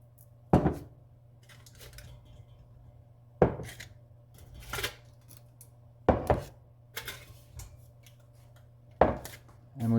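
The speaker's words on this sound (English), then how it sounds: "We're going to remove our jars." Glass grain-spawn jars are lifted out of an Instant Pot, giving several sharp clinks and knocks spaced a few seconds apart over a low, steady hum.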